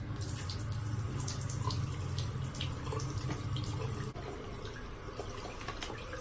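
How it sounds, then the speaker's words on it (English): Tap water runs steadily into a bathroom sink as someone splashes their face, a continuous close hiss and patter that stays even and unbroken throughout, with no talking. "So I'm just splashing my face."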